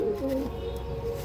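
Pigeons kept by a breeder of flying pigeons coo softly nearby, with a few low, rounded notes in a brief burst over faint background noise.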